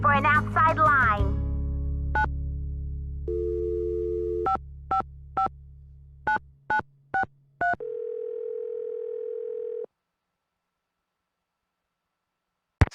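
Telephone handset sounds from the Nancy Drew game Secret of the Scarlet Hand: a steady dial tone gives way to a quick run of tonal key beeps, then a lower continuous tone, each clean and electronic with nothing else underneath.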